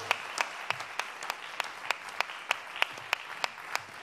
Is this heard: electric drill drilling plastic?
no